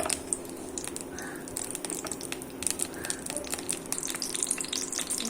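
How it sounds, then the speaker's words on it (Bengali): Okra frying in hot oil produces a steady close sizzle dotted with sharp pops and crackles, plus a few scraping clinks of a utensil, with no voices. "তেলটা একটু গরম হলে আমি ঢেঁড়সগুলো ভেজে নেব।"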